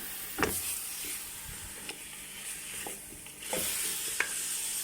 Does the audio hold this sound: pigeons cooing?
no